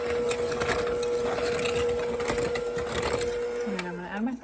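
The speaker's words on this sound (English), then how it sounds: "I'm gonna blend it together" An electric mixer whirs steadily through apple fritter bread batter with eggs, a close mechanical hum with rattling beater clatter that winds down at the end, with talking nearby.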